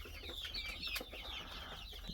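Adler Serebro chickens, two-month-old Russian-line birds, clucking softly at a distance with scattered chirps over a faint background hum.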